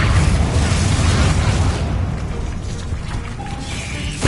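A Confringo blasting spell in the Hogwarts Legacy game, a loud burst of explosive rumble that fades out over a few seconds with scattered debris crackle.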